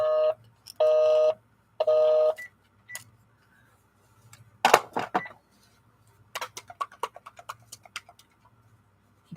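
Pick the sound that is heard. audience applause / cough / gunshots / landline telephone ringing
landline telephone ringing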